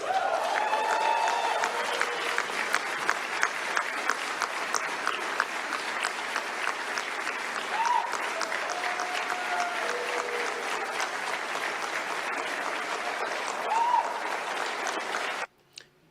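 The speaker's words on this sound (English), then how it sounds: "You hear the applause coming from the Floridians" Prolonged applause and cheering from a crowd of Floridians reacting to an announced indictment of Raul Castro, a steady dense roar of clapping with brief whoops, ending abruptly.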